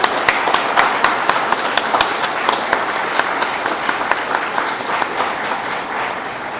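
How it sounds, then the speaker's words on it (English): An audience at a farewell event gives a big, loud round of applause, with sharp individual claps standing out from the dense patter, continuing strongly throughout without any voices. "please join me in giving a big round of applause to him"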